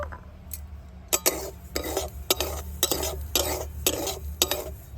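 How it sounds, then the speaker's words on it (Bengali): Semolina is stirred and lightly dry-fried in a wok, making rhythmic scraping strokes of a spoon against the pan, repeated about every half second, close and clear with no voices. "কড়ার মধ্যে এক খুঁড়ি সুজি দিয়ে দেব দিয়ে হালকা করে ভেজে নেব"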